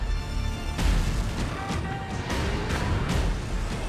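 Explosions and heavy combat effects from the video game Black Ops 2, a loud barrage of deep booms and crashing blasts in quick succession, with no voices.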